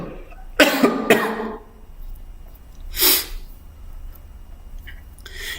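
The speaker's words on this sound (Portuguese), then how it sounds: "desculpa aí a tosse" A man coughs in a few harsh bursts, two close together then another a moment later, loud and near with quiet pauses between.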